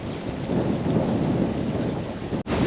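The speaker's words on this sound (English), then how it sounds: "Pretty windy. Still raining." Heavy rain and rumbling thunder during a windy storm at the shore in Surf City, New Jersey, a dense, loud roar of downpour with a brief dropout near the end.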